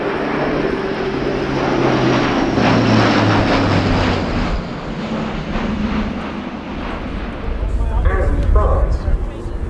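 A Luftwaffe Airbus A400M Atlas military transport flying a display at RIAT 2025, its turboprop engines roaring loud and steady with a droning propeller hum that shifts pitch as it passes, under commentary.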